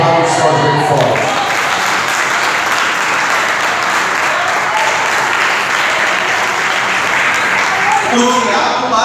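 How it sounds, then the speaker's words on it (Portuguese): A church congregation claps loudly and steadily, a dense roar of applause filling the room for several seconds at close range. "Aplauda os céus bem forte."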